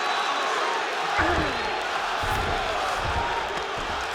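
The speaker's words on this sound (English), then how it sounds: "big pop from the crowd as they get back to their feet after" A steady roar of arena crowd noise from EA Sports UFC 5 swells and holds, with a broadcast voice talking over it.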